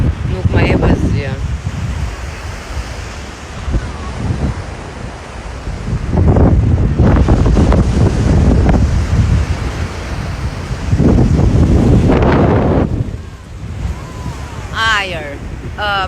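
Ocean waves wash onto the shore in loud rolling surges, rising and falling in long swells with wind buffeting the microphone throughout.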